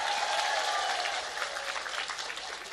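Audience applause at a comedic Islamic sermon gathering on the night of Nisfu Sya'ban, a dense steady patter of many hands that holds fairly even and loud throughout.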